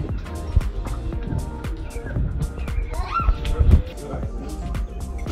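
Dogs at a rural spot in the village of Chirali, at breakfast time with chickens nearby, yip, bark and whimper in short, scattered bursts close by. A person talks over them throughout.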